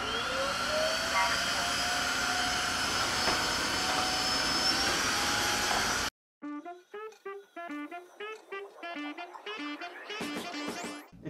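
A Tineco Floor One S3 hard-floor vacuum mop runs with a loud, steady whirring motor hum for about six seconds. Its sound then cuts off abruptly, followed by a sequence of tonal electronic sounds.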